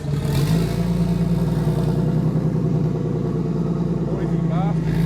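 A car engine idles loudly and revs in a garage at start-up, a steady rough drone with harmonic rumble throughout, close and dominant, with people talking over it.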